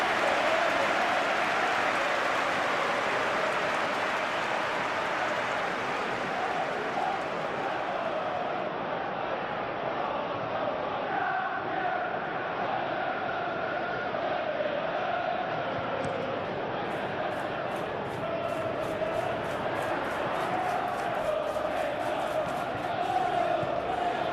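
Stadium crowd noise from a Premier League match between Chelsea and Manchester City in the PES football video game, a loud, continuous roar of cheering and applause sustained throughout without pause.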